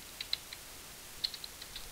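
Keys on a computer keyboard are tapped in a repeated F, D, S, A, space practice sequence, giving sparse, light clicks in an irregular rhythm that sound fairly soft and close.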